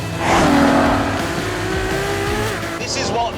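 A 950-horsepower hybrid car with an electric motor and battery accelerates hard, its engine note climbing steadily in pitch, loud and close, with a brief squeal of tyres early on.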